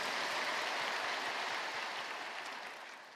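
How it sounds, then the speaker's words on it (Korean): A church congregation applauds the choir after a Sunday worship service, a dense broadband wash of many hands clapping that holds steady and then slowly fades away. "귀한 찬양으로 은혜를 주신 우리 배단위 찬양대에게 뜨거운 감사의 박수 한번 주시기 바랍니다"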